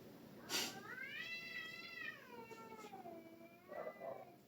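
Several of a neighbour's cats meow close by, with one long, wavering, drawn-out cry between shorter calls at the start and the end. No voices are heard.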